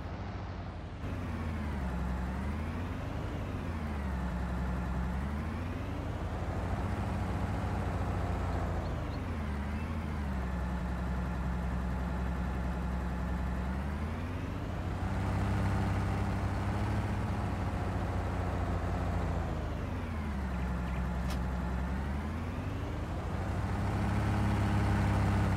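A Claas tractor engine idles and revs in Farming Simulator 19, a steady low diesel drone whose pitch rises and falls in repeated waves as the throttle changes, heard alone and fairly close.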